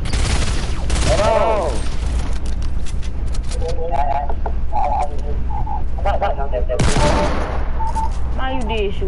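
Rapid bursts of video game gunfire shooting at a player, loud and near, in quick volleys with brief pauses, while voices talk over the shots.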